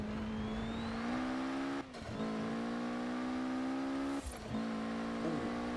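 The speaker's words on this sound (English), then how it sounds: "I think it's the sound of sequential transmission whine" A high, steady sequential-transmission whine from a Mitsubishi Galant rally car in Forza Horizon 4 rises in pitch through the gears, dropping briefly at each shift, with engine drone underneath.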